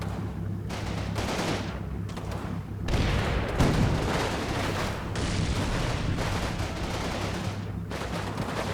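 Continuous volleys of game gunfire and heavier booms as units engage tanks within a firing arc in a strategy video game, loud, layered and ongoing with occasional short lulls.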